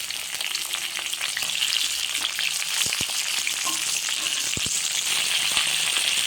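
Potatoes and flat beans fry in oil with black cumin, giving a dense, even sizzle up close with scattered pops and light scraping from stirring. No voices are heard.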